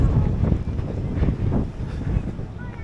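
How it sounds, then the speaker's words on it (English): Gusty wind buffets the microphone on the open deck of the cruise ship Costa Toscana, a loud, close, continuous rumble with a voice faintly under it. "Sorry if it's a little bit windy."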